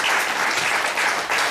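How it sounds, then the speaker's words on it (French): A conference audience bursts into applause at the WebCup 2013 finale, a brief, dense wash of many hands clapping loudly and evenly, with no voices heard. "On peut l'applaudir aussi, Gilbert."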